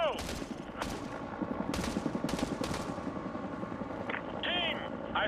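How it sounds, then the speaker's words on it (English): Call of Duty MW2 Remastered combat: a helicopter's steady rotor drone runs under repeated sharp gunfire bursts and crackling shots, with a radio-style voice talking partway through. "Helicopters headed for your area."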